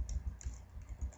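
Quick, faint clicks of a computer keyboard as code is typed in a few rapid keystrokes over about a second.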